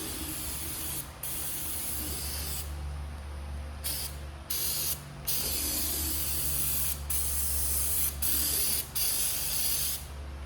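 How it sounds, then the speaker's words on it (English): Aerosol brake cleaner sprays from a can onto an oily oil-pan mounting surface in a garage, a loud steady hiss in several bursts separated by brief pauses, with no talking. "brake cleaner to wipe this off"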